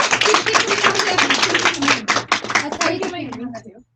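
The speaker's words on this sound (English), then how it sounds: "Our queens, give them a round of applause." A small group claps briskly at an evening celebration, clapping broken into choppy bursts with talking and cheering voices over it, fading out near the end.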